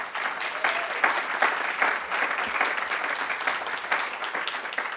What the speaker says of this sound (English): I think we should applaud that number.